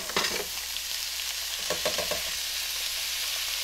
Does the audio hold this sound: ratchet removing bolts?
no